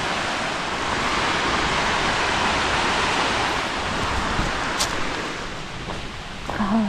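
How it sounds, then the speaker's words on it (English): Broad rushing water from a waterfall along a South Mountains hiking trail, heard as a continuous roar blended with breeze, steady throughout with a faint voice near the end. "Right down there, I think it's the waterfall where we're at."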